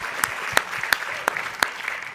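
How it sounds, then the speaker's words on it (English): Scattered applause for Marie at a startup showcase: a handful of distinct, separate claps spaced across the moment, moderately close, with no voices over them. "Let's give Marie a round of applause."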